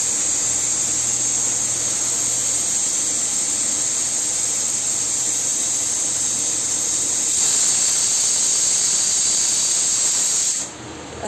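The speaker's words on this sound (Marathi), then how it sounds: "अशा प्रकारे आपल्या 3 शिट्या झाल्यात।" A pressure cooker cooking cashew curry lets out a long, loud, continuous steam hiss with a high whistling edge, holding steady for about ten seconds before cutting off abruptly.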